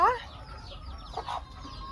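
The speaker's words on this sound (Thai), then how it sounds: "ปล่อยให้แม่ไก่บ้านพา" Domestic mother hen that is raising ducklings gives a few soft, close clucks, with a sharper higher call at the start, over quiet farmyard background.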